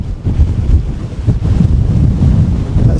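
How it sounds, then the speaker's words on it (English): Strong gusting wind buffets the microphone on an exposed hilltop ridge, a loud continuous low rumble that surges and eases with each gust, no voices. "It's so windy up here."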